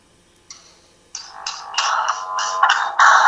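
A phone rings with an incoming call, a faint blip followed by a series of loud, close electronic ringtone bursts in a quickening, stuttering rhythm.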